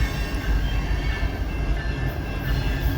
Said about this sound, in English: This train being led by a Norfolk Southern SD70 ACE.